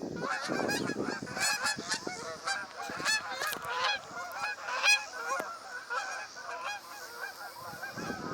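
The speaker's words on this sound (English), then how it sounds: "A whole flock of geese just flew by us, honking their horns." A flock of geese flies over a local park at dusk, honking continuously in overlapping calls from many birds, fairly faint and spread across the sky.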